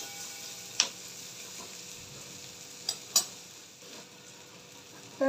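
Chopped onion is stirred in melted butter and oil in a pan, with a soft continuous sizzle and a few sharp clicks and taps of the spoon against the pan, close by with no talking.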